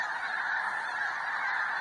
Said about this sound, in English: you're probably getting tired of watching geese swarming